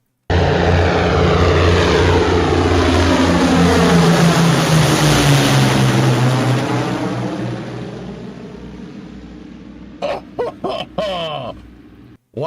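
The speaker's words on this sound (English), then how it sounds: "Why have 1 Merlin engine when 4 do trick?" A propeller aircraft powered by four Merlin engines roars past loud and close, its deep droning pitch sliding lower as it recedes and fades, followed by a few short sharp bursts of noise.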